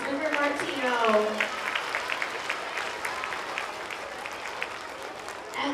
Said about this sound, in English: one more round of applause for Wigs and Wishes and for Martino